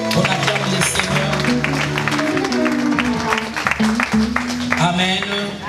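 A church congregation applauding to acclaim the Lord during a Sunday worship service, a dense sustained clapping throughout, with singing or voices mixed in underneath.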